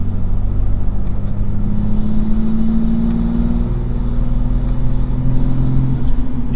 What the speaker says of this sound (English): in normal mode, slow acceleration in 5th gear.